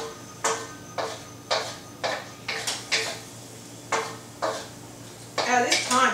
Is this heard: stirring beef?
yes